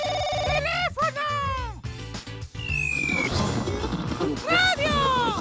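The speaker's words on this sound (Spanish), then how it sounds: "¡Teléfono!" A telephone bell rings in a rapid cartoon-style trill at the start, followed by playful sound effects and a chattering voice.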